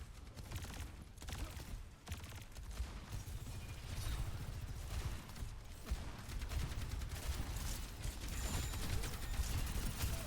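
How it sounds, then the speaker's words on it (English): Overwatch match with a railgun headshot and primary-fire gunshots from Sojourn amid a dense, loud barrage of game weapon fire and effects, continuous and layered throughout. "That was a headshot with the railgun, and the follow-up just extra bullet of the primary fire to get the kill on a Matriarch"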